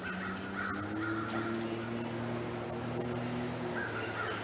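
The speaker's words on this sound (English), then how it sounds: "I hear more birds." Crows caw a few times in the distance over a steady drone of insects and faint outdoor background noise.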